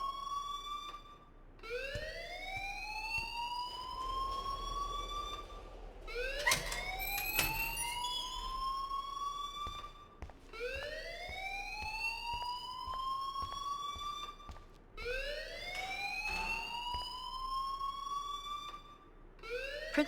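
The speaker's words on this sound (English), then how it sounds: "please turn off that alarm since that's your job" Repeating rising siren-like alarm wails ringing through a school hallway in Life Is Strange, about five sweeping cycles, loud and steady with no talk over them.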